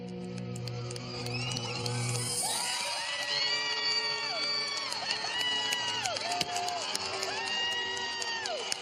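A large crowd of about 600 people on a small-town main street in Weeping Water cheers, whoops and shouts at a weight loss reveal, a dense, steady roar with children's shrieks rising above it, following a brief low hum at the start.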